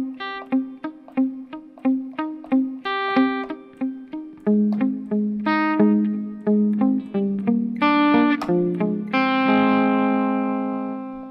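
Electric guitar with effects and slight distortion plays the third-verse part of a song slowly, picking single notes and small chord shapes in a steady rhythm, heard alone and close.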